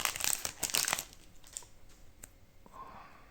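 A Union Arena Dr. Stone card booster pack is torn open close up, with a burst of loud foil crinkling in the first second, followed by fainter rustles and small clicks as the wrapper is handled.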